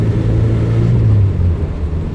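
A Renault 10's engine runs hard under load, a loud, steady low drone that swells slightly as it is pushed harder, heard close with no voices.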